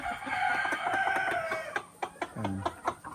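Native chickens clucking close by while being fed rice grain, with a drawn-out crow-like call early on followed by a series of short, sharp clucks.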